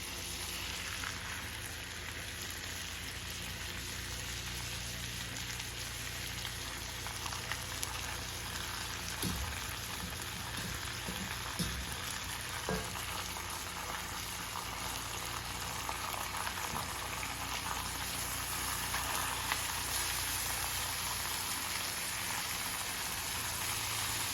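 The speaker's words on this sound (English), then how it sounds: "So I'm just going to start adding our short ribs into the skillet while the butter is melting." Short ribs searing in melting butter in a skillet, a steady dense hiss and crackle like rain on a surface, close and continuous with faint occasional pops and no talking.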